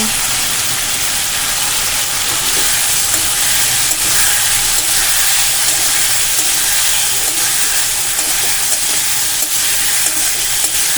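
Paneer strips are stirred and fried in a pan over medium flame, a loud, steady hissing sizzle with faint scraping from the stirring, heard alone without talk.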